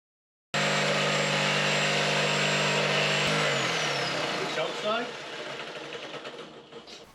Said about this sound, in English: drilled a hole first and then used the jigsaw just to cut round and cut those little notches out